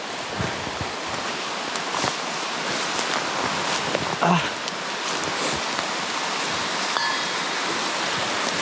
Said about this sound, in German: Da ist unser kleiner Wasserfall.